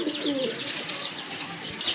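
White Golla pigeons, a native breed, coo amid a dense, busy background of chirps and wing noise, the soft throaty calls steady and close throughout.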